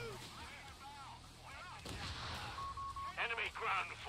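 Gunfire and explosions in a war video game, a dense muffled barrage of shots and blasts rumbling under excited voices talking over a game radio, with a brief electronic beep partway through.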